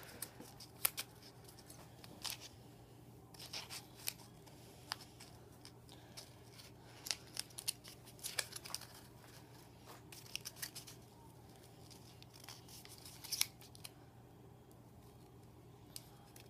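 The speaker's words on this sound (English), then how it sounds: "I'm just gonna cut it out quickly." Scissors cut out a homemade paper case for an iPod touch, giving scattered soft snips and paper rustles at close range over a low, steady hum, all quiet and with no speech.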